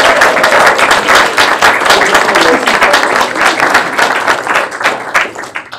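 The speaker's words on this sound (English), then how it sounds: "join me in giving a big round of applause to this group of individuals" Sustained round of applause from a student government senate audience honoring a student advocacy group, dense steady clapping filling the room at close range for the whole stretch.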